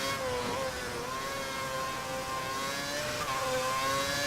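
F1 car in the F1 2011 video game at the Nürburgring, engine whining at high revs with a pitch that dips and climbs as the car oversteers, continuous and fairly loud, no talk.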